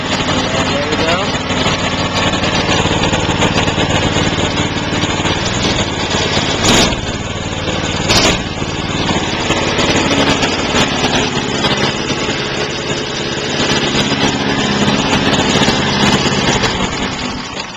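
A 6.5 hp Honda clone go-kart engine from Harbor Freight idles steadily after a cold start, a loud, continuous buzzing drone close by, with a couple of brief sharp clicks around the middle.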